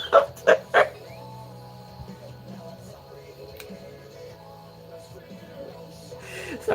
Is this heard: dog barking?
yes